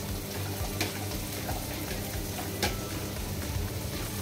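Okra stir-fried in a pan, a continuous close sizzle and crackle with occasional clinks and scrapes of the spatula, moderately loud and steady, no voices.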